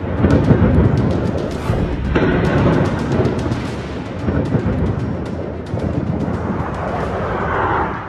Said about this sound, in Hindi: बम और धमाकों की गूंज।